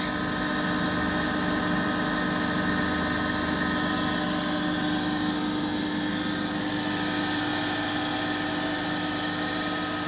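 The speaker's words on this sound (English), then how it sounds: "So the blower is just running right now." A blower on a wood gas auto flare igniter running at night, giving a constant, loud, even hum with steady tonal whine and no change over ten seconds.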